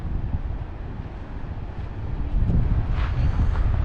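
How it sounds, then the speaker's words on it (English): Gusty wind buffeting a microphone on a steep mountainside above a river, a dense low roar that swells stronger toward the end, with no voices. "Apologize for the wind."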